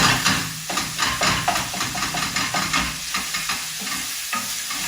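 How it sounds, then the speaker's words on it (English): Sausage meat sautéing in a pan for Sardinian malloreddus pasta, close bright sizzle with a fast, regular train of spoon or spatula scrapes as it is stirred, no talk. "after we saute the sausage meat with the chopping of the parsley, garlic, sun-dried"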